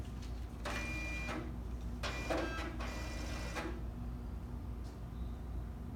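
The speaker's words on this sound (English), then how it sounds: "insert the card in the machine right here" An ExpressVote XL voting machine draws in an inserted ballot card with several short mechanical whirring feed bursts over a low steady hum, fairly quiet.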